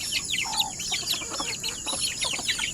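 Month-old backyard chicks, a sweater and melsims black cross, peeping and clucking in quick overlapping high chirps, close and busy throughout with no talk.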